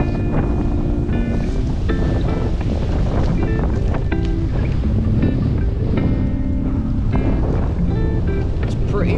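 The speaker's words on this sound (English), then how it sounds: "It's pretty windy today," Strong wind buffets the microphone outdoors during a bike ride in a loud, continuous rush, with faint voices or music tones poking through now and then.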